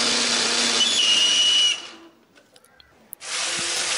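A kitchen blender grinds a spice paste of chilies, turmeric, pepper and coriander with a little water, a loud steady whir for nearly two seconds, then a brief quiet with small clicks before the motor starts again.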